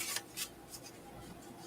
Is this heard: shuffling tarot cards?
yes